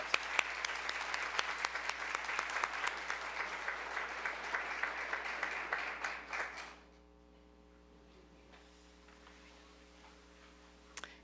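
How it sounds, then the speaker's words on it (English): Audience at a disability employment awareness celebration gives a big round of applause, steady dense clapping for about six seconds that fades abruptly, leaving quiet room tone with a faint hum. "Let's give them a big round of applause."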